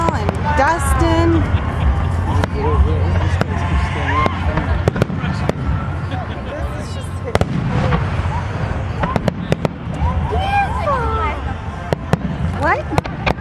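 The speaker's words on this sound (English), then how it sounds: "It got so many fireworks." Repeated loud Fourth of July fireworks in Washington DC bang and crackle in quick, irregular bursts through the whole stretch, with excited voices and whistling tones mixed in.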